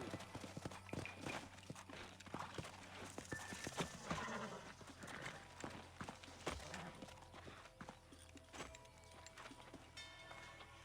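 Video game horses clip-clopping at a walking pace with occasional snorts and whinnies, fairly faint, amid scattered clanks and movement sounds.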